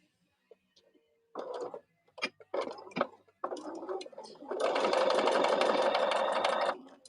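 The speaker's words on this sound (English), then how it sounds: "I'm just top stitching this right now" A sewing machine top stitches a scrap fabric pin cushion, a few short stop-start bursts giving way to one steady two-second run of fast, close stitching, with no talk.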